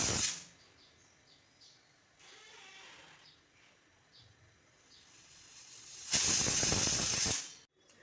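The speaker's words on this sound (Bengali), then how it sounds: "আলুগুলোকে আমি 2টি সিটি দিয়ে নেব।" A pressure cooker boiling salted potatoes lets out two loud, sharp bursts of steam hiss, a brief one at the start and a longer blast near the end, with a faint simmering hiss in between.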